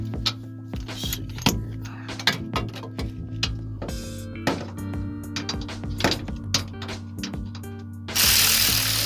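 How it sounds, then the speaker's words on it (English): A ratchet wrench working on exhaust parts under a Volkswagen GTI, giving sharp, irregular clicks and ticks over a constant low hum in a garage, ending in a brief burst of broadband noise. "Ratchet makes everything just that much easier."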